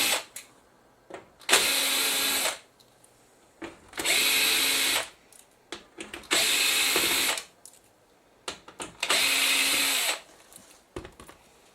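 Power screwdriver backing screws out of a Samsung LCD TV during a repair, four separate whirring bursts of about a second each with short pauses between, close and loud.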